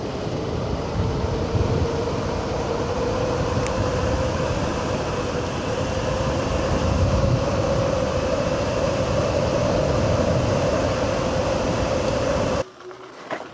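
A 72V HappyRun G300 Pro electric dirt bike on a top speed run over wet gravel, heard as a loud continuous whine with rushing wind and tire noise that cuts off abruptly at the end.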